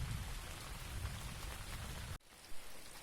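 Steady, gentle summer rain pattering on surfaces, a soft continuous hiss of drops close by that cuts off abruptly near the end before resuming more faintly.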